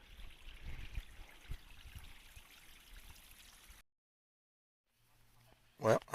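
A small creek on a spring section hike in the Georgia–North Carolina mountains, steady trickling and flowing water heard close for several seconds, then a near-silent gap before a brief louder burst of movement at the end.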